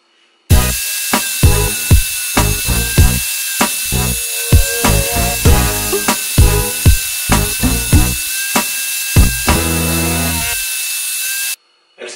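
A hand saw cuts through a board along a homemade saw guide, loud close rasping strokes in a steady back-and-forth rhythm, with a short pause midway.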